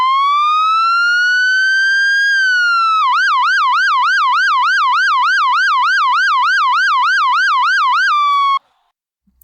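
A synthesized siren sweeps up in a long, smooth wail, then switches to a fast, steady yelp warble for several seconds before cutting off abruptly. It is loud and alone, with no talking.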